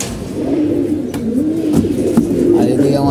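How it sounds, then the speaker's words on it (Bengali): Pigeons coo in low, repeated throaty calls close by, with someone talking over them and faint background noise. "কিছু কবুতর আছে এখন নিচে বসে রয়েছে"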